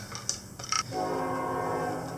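A train passing nearby, its horn sounding as a sustained tonal blast after a few brief clicks and knocks from nearby work, holding steady at moderate volume until the end.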